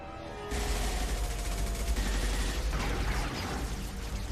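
Sustained gunfire in the video game Mass Effect 2: a dense, loud barrage of rapid shots and booms with no talking over it, the firing continuing without pause to the end.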